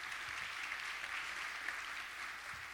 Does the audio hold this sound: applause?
yes